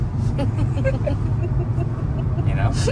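Steady road noise and low engine hum from an autonomous car driving, a continuous rumble at moderate level throughout with no clear talking.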